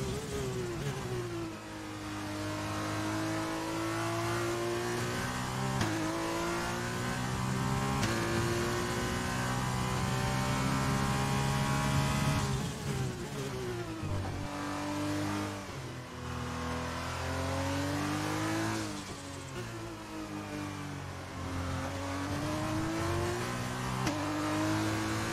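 A Formula 1 car engine screams on the final lap in F1 2020, loud and close, revving up through gears in long climbing sweeps with sharp drops at shifts, continuous throughout.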